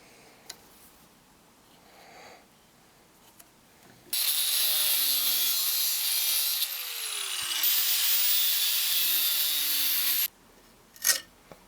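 A wooden spacer for a Damascus coffin-handle Bowie knife is sawn out in one loud, continuous cut of about six seconds, with quiet workshop sounds and small knocks before and after.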